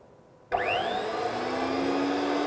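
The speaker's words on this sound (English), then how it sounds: "I'm going to cut the thread by using this power threading machine" A power threading machine cutting threads on galvanized pipe starts abruptly and runs as a steady, loud motor whine with a rising pitch sweep, close and continuous, with no talk.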